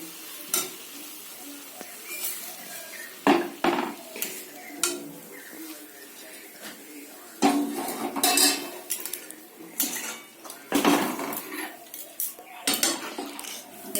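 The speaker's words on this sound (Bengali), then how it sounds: "ভালো করে নাড়িয়ে চাড়িয়ে এটাকে একটু ফুটতে দেবো।" Milk and bottle gourd are stirred in a cooking pot, with bursts of metal spoon scraping and clanking against the pot over a low simmer, separated by quieter pauses, close and moderately loud.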